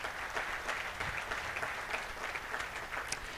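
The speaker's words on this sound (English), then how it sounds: "Let's give them a round of applause," A crowd at a community event claps steadily, a bright, dense wash of hands sustained at a constant level throughout.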